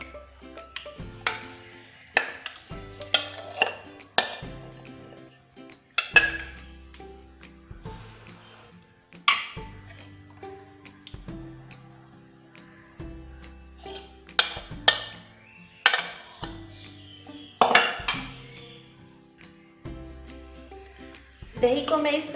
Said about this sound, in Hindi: दही को मैं इसमें मिक्स कर रही हूँ अच्छी तरह से